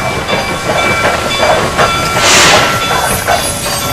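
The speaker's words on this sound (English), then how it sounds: "I took the early evening train to the late millionaire's mansion" A passenger train heard from inside on an early evening journey, with a steady rolling rumble, faint rhythmic clatter and a brief hiss swelling near the middle, continuous and fairly close with no voices.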